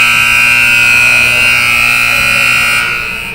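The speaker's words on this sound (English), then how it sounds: "As the final buzzer goes" Final buzzer at a youth hockey game between Pilot Mound Hockey Academy and RHA, a loud sustained electronic horn holding steady for about three seconds before starting to fade, alone without talk.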